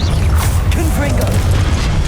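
A Confringo blasting spell explodes in the Hogwarts Legacy video game, a loud, sustained booming rumble with a whooshing, crackling tail that fills the short moment.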